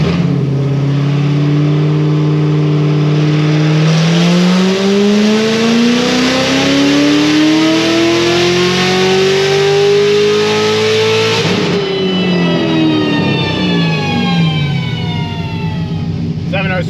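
Loud, close engine pulling hard in a single sustained run, its pitch climbing steadily for several seconds, then dropping sharply as the throttle closes and winding down. The engine is a blower-equipped motor on a stock fuel system during a power pull.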